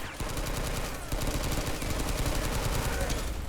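Rapid machine-gun fire in a Men of War Planetside 2 mod battle on a fort map, steady rattling bursts pouring in from many directions, loud and sustained throughout.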